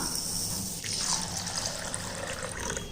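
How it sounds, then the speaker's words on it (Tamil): Soaked toor dal lentils being washed in water: close splashing and trickling, with water sloshing and dripping continuously, a brief louder swirl partway through. "இதில் வந்து 2 தண்ணி 3 தண்ணிக்கு போட்டு நல்லா கழுவி தண்ணி எதுவுமே இல்லாமல் எடுத்து வச்சுருக்கேன்."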